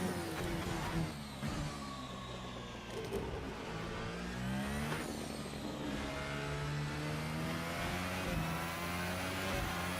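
An F1 car's engine screams through a test lap at the Chinese Grand Prix in a racing video game, its pitch climbing and dropping through repeated gear shifts, loud and continuous with no voices.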